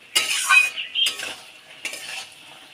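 A utensil stirs mustard hilsa curry in a pan in three short scraping, clinking strokes with gaps between them, close and clear with no talking.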